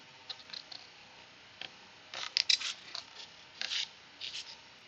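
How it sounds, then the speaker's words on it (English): Scissors snipping through adhesive during a papercraft session, a series of quiet, crisp clicks and short snips in irregular bursts, close and faint, with no voices. "I have a pair of scissors that I use just for adhesive, okay?"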